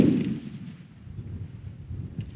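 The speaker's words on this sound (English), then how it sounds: "Mind if I take a quick shot, Mark?" A single gunshot from a test shot of reloaded ammunition booms at the start and rolls off into a low, fading echo outdoors.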